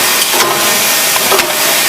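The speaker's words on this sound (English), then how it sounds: "Lubricate that engine up a little bit, and you could speed it up or slow it down here in this valve." A hopper's small engine runs steadily nearby, a loud, even broadband hiss and hum with a couple of brief clicks, and nobody speaks.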